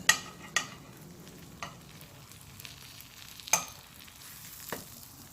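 Grilled cheese sizzles in a forged nonstick pan, a soft steady frying hiss broken by a few sharp clicks and scrapes of a utensil, close and fairly quiet, no voices.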